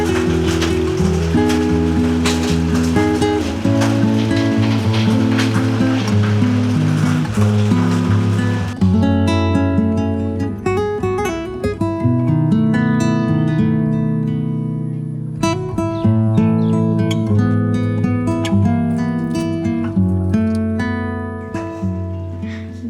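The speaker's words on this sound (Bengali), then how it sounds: "কিন্তু বৃষ্টি যে হারে পড়ছে" Heavy rain falling steadily near a tea garden in the Dooars, a dense continuous patter on surfaces with dripping, close and loud throughout, with no talking.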